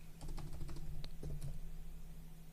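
A computer keyboard is typed on in a quick, close burst of keystrokes lasting about a second and a half, with no voices.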